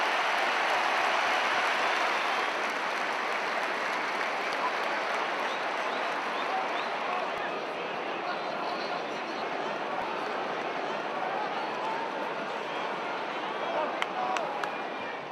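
A stadium crowd applauds at an Everton home match in a football video game, a steady, wash-like clatter of clapping that holds throughout and tapers slightly, with commentary voices beneath.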